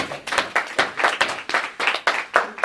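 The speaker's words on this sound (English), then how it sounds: "So let's give him a big applause." A small class claps for a new member joining for a year, a handful of hands beating in uneven bursts about every quarter second, close and moderately loud with no talking.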